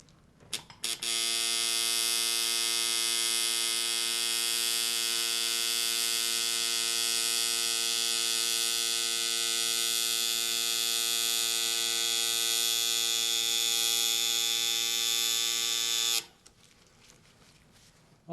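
Tattoo machine buzzing steadily for about fifteen seconds while tattooing a line on skin, a loud continuous electric drone with strong harmonic tone, starting abruptly and cutting off near the end, no talk over it.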